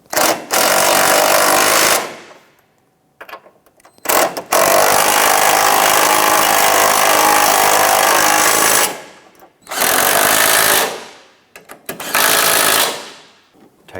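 A power tool tightens engine mount bolts on a 2005-2007 Ford Five Hundred, running in loud, close buzzing bursts of a few seconds each, separated by short pauses; no speech.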